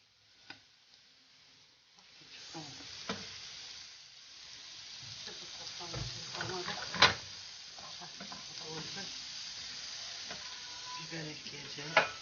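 Onions already turned pink sizzle in a frying pan with half a spoon of tomato paste added for a Turkish borani dish, a steady moderate frying hiss with occasional clicks and stirring knocks, no talk.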